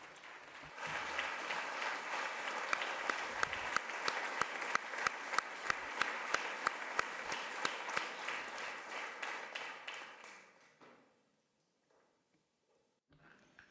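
Audience applause at the close of a talk at a gathering on Albert Camus, sustained clapping from a medium-sized crowd with individual sharp claps standing out, lasting about ten seconds before fading into near silence.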